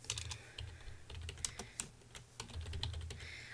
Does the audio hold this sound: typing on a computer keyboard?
yes